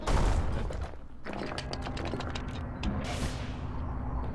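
Mortar fire in the video game Bastion: a heavy opening boom followed by a rapid run of sharp, close percussive shots and mechanical clatter, with a second louder burst near the end, no voices.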